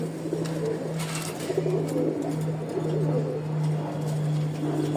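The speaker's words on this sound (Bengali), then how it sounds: "নিচে আরো একটা সাদা কবুতর আছে" Pigeons, including a white one, coo in a low, repeating rumbling pattern close by, continuous throughout with faint background hiss.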